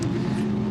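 GT3 race cars lapping Silverstone in the British GT Silverstone 500 make a loud, steady engine roar throughout, a continuous low-pitched drone with no voices.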